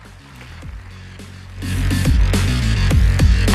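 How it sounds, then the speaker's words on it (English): Audience applause at a Maruti Brezza car launch event, a broad wash of clapping that swells from a quieter start to full, steady applause and holds to the end. "Let's give them a round of applause, ladies and gentlemen."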